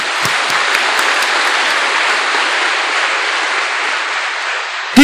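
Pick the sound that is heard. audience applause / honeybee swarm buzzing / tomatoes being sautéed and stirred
audience applause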